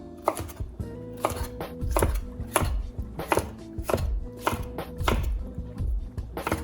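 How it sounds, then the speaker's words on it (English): A knife chops cucumbers for a smashed cucumber salad on a cutting board: rapid, steady, close-up chops in a fast, even rhythm, with no voices. "I'm just going to cut the rest of these up real fast like this."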